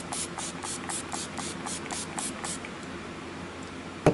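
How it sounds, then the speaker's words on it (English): A spray bottle of setting spray mists onto a face in quick, rhythmic pumps, about ten short bursts close by, then falls quiet before a small tap at the end. "So spray this all over your face."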